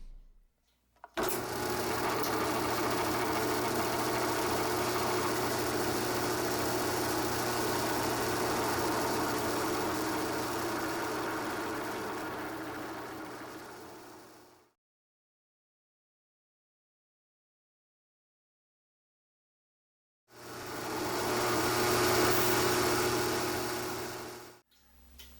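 A power drill with a 1/8 inch bit bores into wood, running loud and steady with a buzzing motor whine for about thirteen seconds, then silence, then a second shorter burst of drilling.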